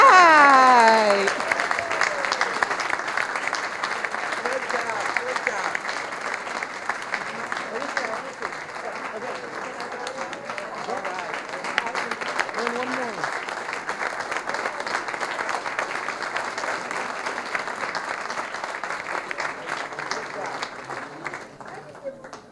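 Sustained applause from an audience at a school district board meeting honoring national chess champions, loud at first and gradually easing, with a voice speaking over the start.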